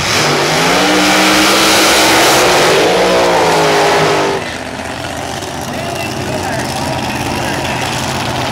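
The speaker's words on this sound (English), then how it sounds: "we have got ourselves a very interesting drag race" A top alcohol dragster roars at a drag race, a loud rising engine howl for about four seconds that then drops into a steadier, distant rumble with crowd and track noise underneath.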